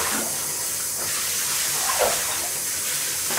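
Water runs steadily with a hissing, splashing spray while washing a blue nose pitbull, continuous and close with a brief louder splash.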